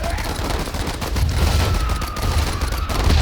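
Dense artillery and rifle fire in a WWI video game, a continuous rumbling barrage of overlapping shots and booms, loud and unbroken.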